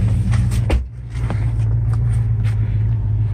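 Supercharged 2010 GMC Sierra 1500 Denali AWD pickup driving, a steady low engine and road rumble with a brief dip in level, heard from inside the cab without talk.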